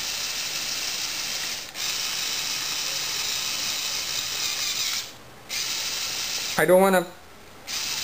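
A small motor on a toy construction machine whirs steadily as it drives the arm up and down, with brief pauses and a short burst of grinding clicks, while a person talks over it.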